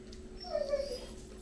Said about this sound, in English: The dog is having a panic attack.